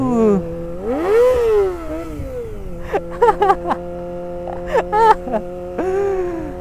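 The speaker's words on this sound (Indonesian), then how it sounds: "suara motor si Aul nih khas" A motorcycle engine revs up and down close by, with rising and falling whines and several sharp, short throttle blips, loud and clear with no speech over it.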